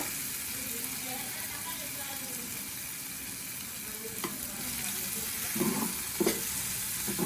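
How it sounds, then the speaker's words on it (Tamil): Dried seer fish thokku with chili powder and turmeric fries in a pan, a steady moderate sizzle with a few stirring scrapes and clinks toward the end, close and continuous. "அந்த மசாலா ஆட் பண்ண மிளகாத்தூளோட பச்சை வாசம் போகிற வரைக்கும் கொஞ்சம் நேரம் ஃப்ரை பண்ணுங்கள்"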